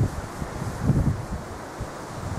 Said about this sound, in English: I'm going to zoom out and head off because that wind's cold.